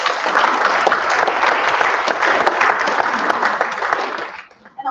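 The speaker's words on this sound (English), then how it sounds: "So let's give everyone a round of applause." An audience at a women's health day event claps steadily for about four and a half seconds, with dense applause that tapers off abruptly at the end.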